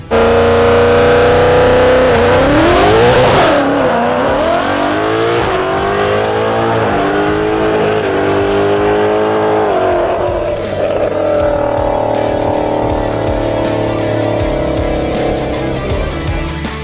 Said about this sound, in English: After a strong launch, the Mustang would not shift